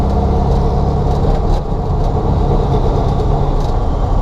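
Engine of a Turbo Bug driven with a real gas pedal, a loud, dense, continuous low rumble heard from inside, holding steady with slight rises and dips as the throttle is worked.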